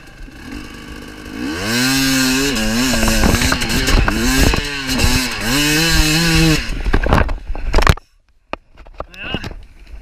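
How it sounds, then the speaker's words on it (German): Hard enduro motorcycle at the Melz Extrem enduro race, engine loud and close, revving repeatedly in rising and falling surges for several seconds before cutting off abruptly, followed by quieter scattered sounds. "Das Mega-Motorrad!"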